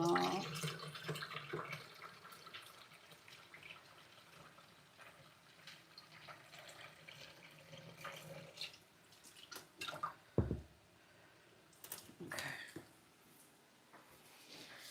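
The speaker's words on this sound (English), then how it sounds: "And then we're going to rinse them all." Dried split peas are rinsed under running water, a faint, steady trickle with scattered drips and a few louder splashes and clinks near the end, close by and quiet.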